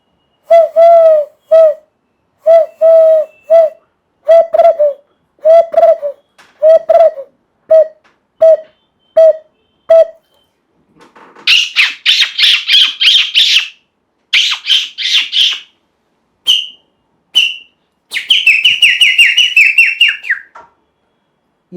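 A man imitates a series of bird calls by voice, first repeated mid-pitched cooing or chirping notes in a steady rhythm, then shriller rapid trills and whistles, loud and close with short pauses between phrases.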